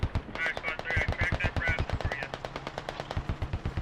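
Rapid bursts of Bushmaster autocannon fire during a mechanized battle in the video game Squad, a steady rhythmic string of heavy booming shots that runs the whole length of the clip, with a voice talking faintly underneath.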